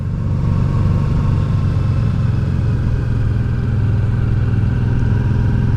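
A Honda Deauville motorcycle climbs the Col de la Bonette mountain pass in second gear, its engine holding a steady, loud, even drone throughout with no talking.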